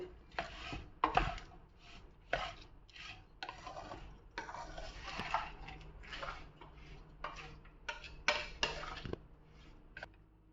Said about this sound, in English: Also squeeze lemon juice and mix it well.